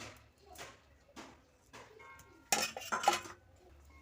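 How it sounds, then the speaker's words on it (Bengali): A metal lid clatters onto a cooking pot of bhola fish posto curry with a hilsa head, giving a short burst of clinking and rattling after quiet kitchen sounds. "ঢাকনা দিয়ে দেব"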